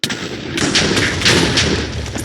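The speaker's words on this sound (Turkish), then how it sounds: "TNT patlıyor." TNT explodes in a video game as a loud, dense roar with repeated heavy thuds, close and sustained for about two seconds.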